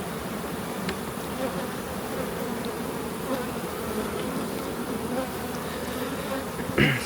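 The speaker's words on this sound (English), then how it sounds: "Smoke these bees off the box rim here." Dense, steady buzzing of many honey bees swarming around an open hive box during a summer split, continuous and close throughout, with a brief louder bump near the end.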